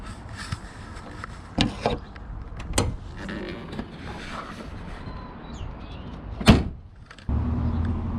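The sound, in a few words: RV hood being closed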